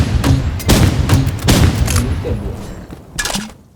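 Gunfire in the video game Rivals, with a rapid series of loud, close gunshots in bursts, followed by a few more shots that trail off quieter at the end.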